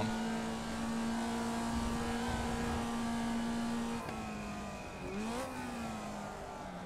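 A racing car engine in a sim racing video game holds a steady high drone at speed, then dips as it shifts or lifts and revs up again, loud and continuous with no voices.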